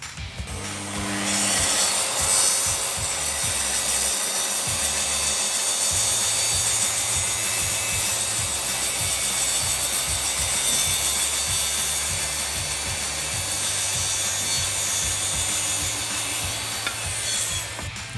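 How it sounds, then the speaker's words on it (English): Power saw cutting a wooden tabletop to size, a loud continuous whining rasp that holds for the whole stretch, with a brief run-up at the start and no voices. "we just cut the tabletop to size"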